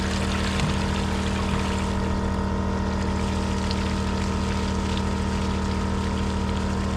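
Steady rushing flow of spring water from a culvert into a century-old spring-fed water tank, with a constant low mechanical hum beneath it, loud and continuous throughout, no voices.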